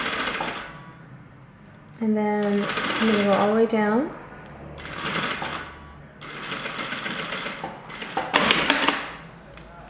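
Sewing machine stitching down a zipper on a single layer of fabric for a tool roll, running in several loud bursts of rapid whirring with pauses between, while a person talks through the gaps.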